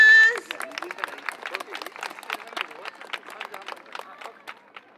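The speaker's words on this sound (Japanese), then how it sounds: "宮城組です大きな拍手お願いします" A festival crowd claps for a yosakoi dance team in a scattered, moderately loud round of applause made of many distinct claps, with a brief voice at the start.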